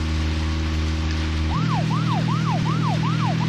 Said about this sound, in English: weirdly loud rumble when I turn the siren on.